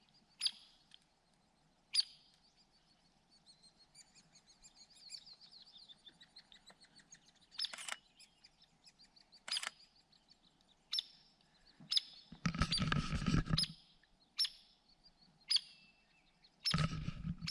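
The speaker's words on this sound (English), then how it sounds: "waiting for the little woodpecker to return" Sharp, brief woodpecker calls, agitated, repeat at irregular intervals, fairly close, with a couple of louder rustling bursts and a faint steady background hum.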